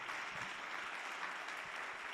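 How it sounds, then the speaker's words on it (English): A large audience claps at a youth weekend event, a dense, steady wash of applause sustained throughout at moderate distance, with no voices standing out. "please give yourselves a loud round of applause"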